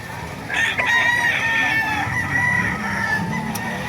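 A hatch gray gamefowl rooster crows loudly and close at a busy chicken market in Bocaue, Bulacan, one long drawn-out crow over a steady crowd murmur and other fowl.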